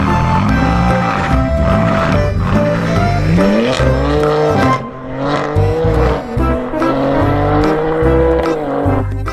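A toy race car sound effect in a children's vehicle toy play session: loud, continuous roaring engine with revving sweeps and tire squeal, dense and busy throughout, with a brief dip midway before the motor noise surges back.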